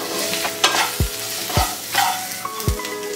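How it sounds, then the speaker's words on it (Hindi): Potatoes stirred in a pan with amchur powder, black salt and salt, a spoon scraping in a few rhythmic strokes with low thumps over a soft sizzle, close and alone. "सारी चीज को अच्छे से मिक्स करेंगे।"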